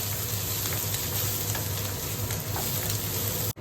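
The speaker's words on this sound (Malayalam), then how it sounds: "എണ്ണ ചൂടായതിലോട്ട് നമ്മൾ നേരെ നമ്മുടെ വെളുത്തുള്ളിയും പച്ചമുളകും ഇട്ടു." Garlic and green chillies fry in hot oil, giving a loud, steady, close sizzle that runs unbroken before cutting off sharply at the end.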